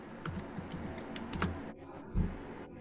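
Computer keyboard typing and mouse clicking, close and moderately loud: a steady run of light key taps with a few sharper clicks, one thudding press near the end, and no voices.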